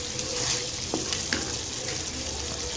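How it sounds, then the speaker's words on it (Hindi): Chicken karahi gravy fries in a pan with a soft, steady sizzle, broken by a few light clinks and scrapes of a spoon stirring, fairly quiet and without speech. "जब तक ये भून रहा है तब तक साथ साथ आप इसके अंदर चमचा हिलाते रहें ताकि ये नीचे लगे नहीं।"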